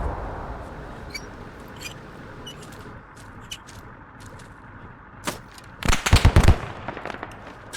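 A .50 caliber vehicle turret gun in a combat video game fires a quick, ragged burst of sharp cracks near the end, preceded by a few scattered distant shots over a quiet field ambience.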